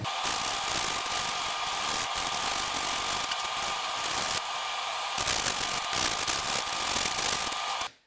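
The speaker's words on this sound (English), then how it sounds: "what I'm going to do with this side is I'm just going to lightly sand it" A wooden axe handle being sanded, a steady, loud broadband rasp that runs almost without a break for eight seconds before cutting off abruptly at the end.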